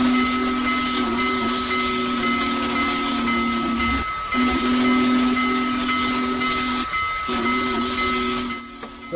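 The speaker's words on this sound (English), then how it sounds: "that's the whistle of the big boy that I've used on this locomotive" A Union Pacific Big Boy steam locomotive whistle, modded into a train game, sounds in three long, loud, steady blasts with short breaks between, over a constant background of steam hiss.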